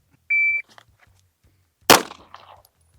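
A single sharp gunshot from a 5-inch Smith & Wesson M&P 2.0 pistol, preceded by a shot-timer beep, loud and close with a brief echoing tail.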